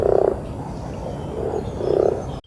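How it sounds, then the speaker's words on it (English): A male common frog calls with low, purring croaks in three or four grouped bursts, fairly close over a steady background hum, no voices. "I did in fact manage to get a male frog calling."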